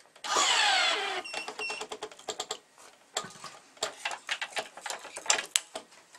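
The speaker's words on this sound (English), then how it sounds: "Now I'm going to remove my starting clamp" Starting clamp being released and removed on a racket stringing machine, a quick run of sharp metallic clicks and ratchety taps, close and moderately loud, no voices.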